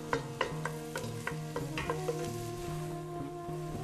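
Onion frying in oil in a cooking pot, a soft sizzle under quick, clinking stirs of a utensil against the pot, close but fairly quiet, with no talk.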